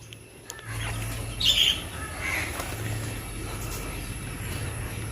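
Caged lovebirds give faint chirps and a brief squawk over a steady background hum, with the calls sounding thin and somewhat distant.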